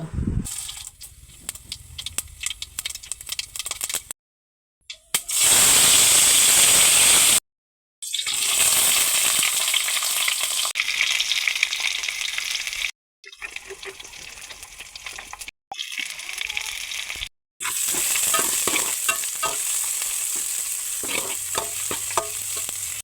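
Tomato tamarind curry fries in a pan at home, with loud sizzling and repeated stirring in bursts broken by brief silences, close to the listener.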